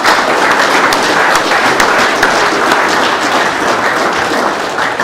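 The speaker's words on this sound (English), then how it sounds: "So round of applause for Travis Lynn," A crowd at a football league medal night applauds its league president with loud, steady clapping that fills the room from start to finish, with no voices over it.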